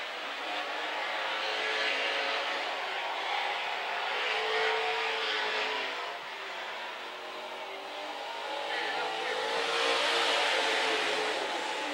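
Super stock race cars roar down the back straightaway of a dirt speedway, a dense, continuous engine scream from the pack that swells and dips as the cars pass, loud and unbroken with no talk.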